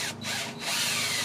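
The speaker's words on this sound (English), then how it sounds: "My long drill bit's getting a little rough at the edge, so it's skipping a lot." A power drill with a worn long bit drives a screw into wood while building a shed foundation, a steady close whirring with brief dips where the bit skips.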